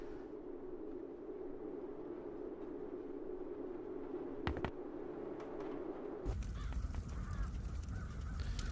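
Birds cawing in the point-and-click game The Dark Eye: Chains of Satinav, crow-like calls over a steady ambient game background that grows brighter and busier near the end.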